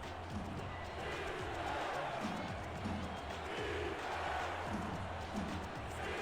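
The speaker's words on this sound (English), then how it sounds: "Crowd chanting defense." The crowd at an American football game between Seattle and Denver sets up a rhythmic chant with claps under a broad, echoing stadium roar, distant and fairly faint.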